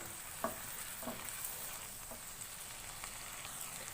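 A spiced mixture with salt being stirred in a pan, faint soft scrapes and taps of a spoon over a low steady hiss of cooking, quiet and unhurried with no voices.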